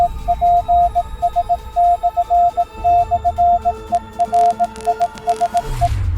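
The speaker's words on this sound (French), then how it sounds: "l'indice caché dans cette vidéo est tout simplement en code Morse" Morse code beeps hidden in a treasure-hunt clue, a steady tone keyed into short and long pulses in irregular rhythm over a faint hum, ending in a brief noisy burst.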